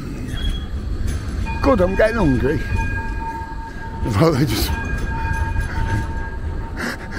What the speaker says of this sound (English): let's just walk over the tram lines while there's a bloody 10-ton tram coming through